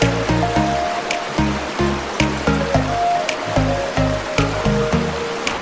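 The Argun River in Chechnya rushes loud and close as a constant broadband wash, with a rhythmic low droning pulse repeating over it and no voices.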